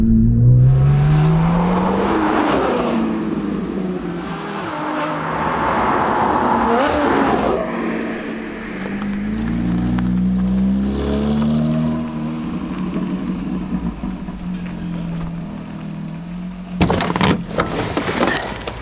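A Porsche 991.1 Carrera 4S with a sports exhaust accelerates hard, its engine note climbing loud and close through several rising sweeps for most of the clip, with brief sharp clatter near the end.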